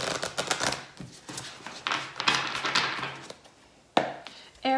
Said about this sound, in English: I want to shuffle the cards thoroughly.